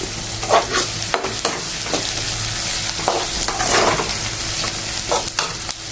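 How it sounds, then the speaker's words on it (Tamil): Onions, curry leaves and green chillies sauté in a pan for a kurma, a steady close sizzle broken by repeated scraping stirs and occasional clacks of the ladle against the vessel. "வெங்காயம் சேர்த்துக்கலாம் நல்லா வதங்கணுங்க"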